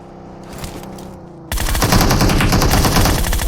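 Loud, dense bursts of rapid gunfire erupt halfway through after a quieter stretch, sustained and close, like sniper rifle fire in PUBG Mobile.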